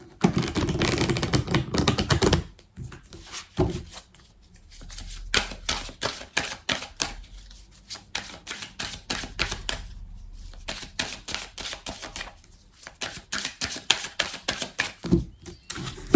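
Tarot cards shuffled by hand in quick rhythmic bursts of crisp riffling and flicking, close and fairly loud, with brief pauses between runs and no talking.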